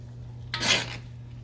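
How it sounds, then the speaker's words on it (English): Raw steaks are set down and nested into a dish, making one brief close scraping, rustling thud over a steady low electrical hum. "start nesting my steaks in this"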